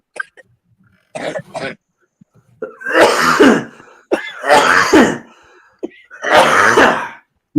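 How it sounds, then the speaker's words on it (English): Several harsh coughs and throat clearings come in loud separate fits, close by, with short quiet gaps between them. "Everybody's coughing."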